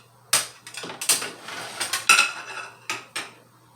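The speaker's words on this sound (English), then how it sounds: "I'm just showing you how I grate it" Beetroot being grated on a hand grater, close scraping strokes mixed with clinks and knocks of metal against kitchenware, in short irregular bursts.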